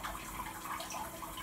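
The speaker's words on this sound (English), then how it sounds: "I'm gonna turn the water pressure up a little bit." Water sprays steadily from a robot toilet's bidet nozzle with the pressure turned up, a close, continuous hissing splash with no talking over it.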